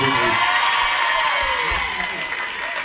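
A studio audience applauds and cheers for a comedian on a French-language TV talk show, with loud sustained clapping and scattered whoops, while a host's voice carries over the crowd.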